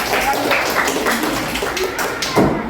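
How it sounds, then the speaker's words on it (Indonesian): Classroom applause for a student group: a dense, steady patter of many hands clapping that carries evenly throughout, with a brief louder swell near the end. "berikan tepuk tangan pada kelompok 3 sekali lagi ya"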